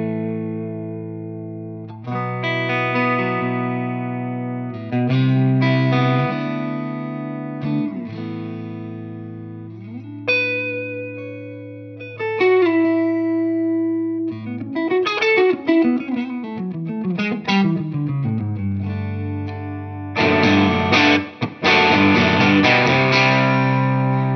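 An electric guitar plays through a new updated Yamaha THR amp's models, with clean chords, single notes and bends, then heavily distorted chords with effects. It is loud, close and solo, with no talking.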